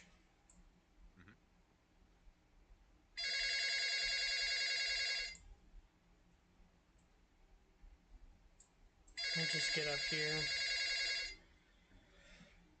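A telephone rings in two long electronic bursts of about two seconds each, loud and close, separated by a pause, over a quiet room where a voice briefly speaks.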